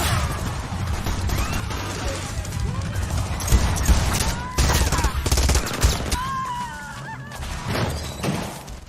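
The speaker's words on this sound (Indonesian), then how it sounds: "anggota geng Meksiko itu pun melihat Chip dan tembak-menembak pun tak terhindarkan." Gunfire from a shootout with Mexican gang members in the action film Crank 2: High Voltage, a busy barrage of shots and crashes over a thick movie soundtrack with some voices mixed in.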